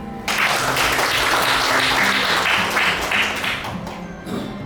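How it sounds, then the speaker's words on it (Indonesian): An audience applauds steadily at a doctoral promotion ceremony in law at UMI in Makassar. The clapping starts abruptly, stays dense and fairly close, then tapers near the end. "Tepuk tangan lagi."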